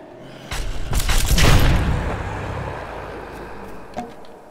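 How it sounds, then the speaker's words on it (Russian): A musket fires in the survival video game Drake Hollow with a single loud, booming blast that rolls off over about two seconds, followed by a faint thud. "Зря потратил выстрел из мушкета."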